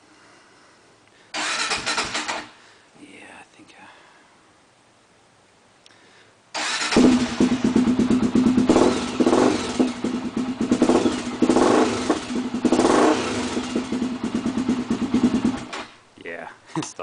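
A Honda TRX400EX ATV engine, started with a little choke, sputters briefly, goes quiet, then starts and runs loudly with uneven revving before cutting out; a person speaks briefly.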